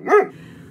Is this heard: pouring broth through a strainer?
no